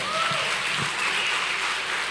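A church congregation claps together for Jesus after a call from the pulpit, a dense, steady wave of applause filling the room without pause.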